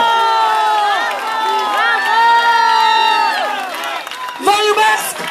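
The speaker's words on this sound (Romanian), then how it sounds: "Aplaudă încă pe Diana Jojoacă!" A rally crowd in Romania cheers, whoops and claps for Diana Șoșoacă, a loud sustained roar with high shouting voices, dipping briefly before a fresh burst of cheering at the end.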